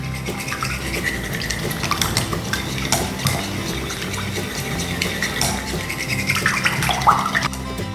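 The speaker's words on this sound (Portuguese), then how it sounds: "Em uma tigela eu vou colocar um ovo, vou acrescentar meia xícara de leite, 2 colheres de sopa de manteiga em temperatura ambiente e eu vou misturar bem" An egg, milk and room-temperature butter are mixed together in a bowl, producing a steady wet swishing and stirring with occasional utensil clicks against the bowl, close and moderate in level.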